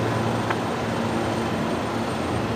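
An Airbus A330 jet at Brisbane Airport at night gives off a steady, broad engine roar that holds evenly throughout at a moderate distance.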